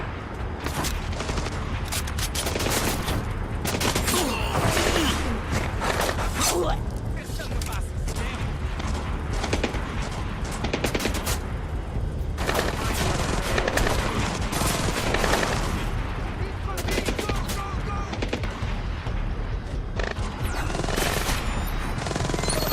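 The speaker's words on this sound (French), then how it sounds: "On entend des tirs d'armes légères dans le terminal, Sam." Small-arms gunfire rattles through a terminal in Splinter Cell Blacklist, with dense, continuous bursts of shots and mechanical clatter throughout, under loud game audio and intermittent speech.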